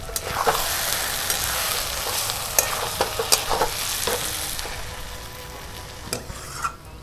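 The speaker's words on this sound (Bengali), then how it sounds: "এবার এটাকে নাড়াচাড়া করতে থাকবো।" A pan of food frying with turmeric, salt and ginger paste being stirred, a close steady sizzle with irregular scrapes and clinks of the spoon against the pan, louder in bursts, no voices.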